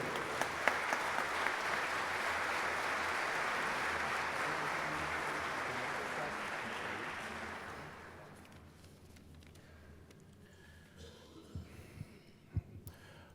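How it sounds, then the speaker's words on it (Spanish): An audience at a diplomatic and parliamentary session gives a loud, sustained round of clapping that holds for about eight seconds, then fades out, leaving quiet room noise and a few scattered knocks. "Le damos un fuerte aplauso a el diputado Carlos Eduardo Osorio"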